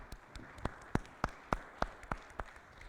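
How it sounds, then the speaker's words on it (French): A few scattered hand claps ring out in a municipal council meeting room in Claye-Souilly, about eight distinct claps spaced unevenly and fairly soft, rather than full applause. "On va t'applaudir."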